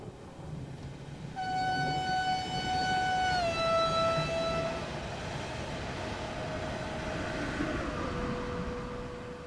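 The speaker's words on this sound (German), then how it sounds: "So, da kommt unser Zug." In a Train Sim World session on the Hamburg-Lübeck line, an approaching train sounds a long two-tone horn that drops in pitch, over a steady rumble of rolling wheels that fades slightly as the horn trails off.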